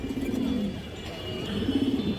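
A pigeon at a market stall gives two soft, low coos, one early and one near the end, with quiet background hum between them.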